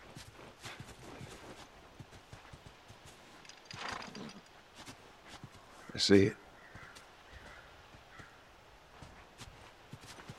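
Horse hooves clop at a walk in The Last of Us, soft and fairly close under game ambience, with a short spoken line and a louder burst midway.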